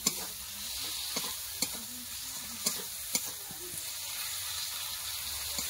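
Cauliflower curry with spices fries in a pan, giving a soft, steady sizzle close by, broken by sharp spatula scrapes and knocks against the pan at irregular intervals.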